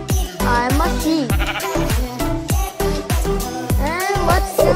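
A string of loud, close sheep bleats from Minecraft, wavering calls repeating rapidly one after another with hardly a pause.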